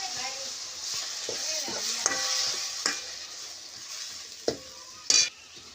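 Moth beans (matki) sizzle in hot oil in a wok while a spatula stirs them, a steady frying hiss broken by several sharp metallic scrapes and clinks.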